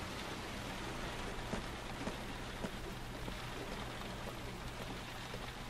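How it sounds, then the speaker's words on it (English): Steady, dense rain patter from the video game Heavy Rain fills the scene, a constant wash of droplets with occasional louder drips and a low hum underneath, no voices. "God, the rain is really loud."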